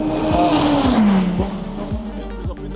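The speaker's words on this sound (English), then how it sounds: "These are the very first laps of the BMW prototype for the WRT team." A BMW V8 hybrid prototype race car on its first laps, heard close with a loud engine note that drops in pitch as it passes. Tire squeal and repeated quick shift pops follow.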